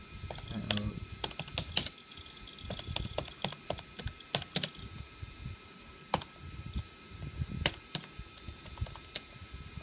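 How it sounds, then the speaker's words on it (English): Rapid clicky typing on the keyboard of a Compaq LTE 5400 laptop running Word 97, with irregular bursts of close, sharp keystrokes over a faint fan hum and no talk. "And I'll do a typing test."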